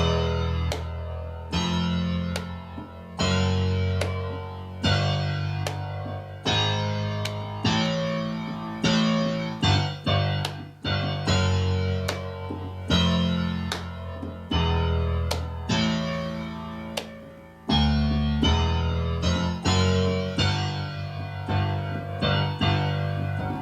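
A song's melody line played alone on a keyboard, with a steady run of sharply struck notes in a brisk, even rhythm through the whole passage, close and fairly loud with no talking.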